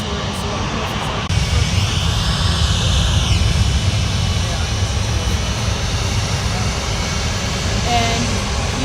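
An American Airlines jet takes off from Fort Lauderdale airport on a flight to Charlotte, a broad, steady engine roar that fills the whole stretch at a moderate distance without easing.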